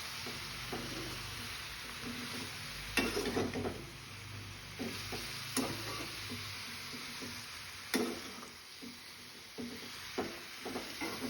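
Spices such as turmeric, coriander powder and red chilli powder are stirred into capsicum and green chillies frying in a pan, with a soft sizzle underneath and repeated clacks of a spoon scraping and tapping the pan.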